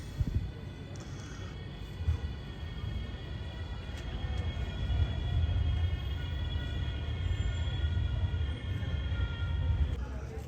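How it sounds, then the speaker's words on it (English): A city tram in Zurich rumbles along its rails, the low rolling noise swelling as it draws nearer, with faint metallic squeal and a voice speaking quietly over the traffic. "That's our tram coming along now, I think."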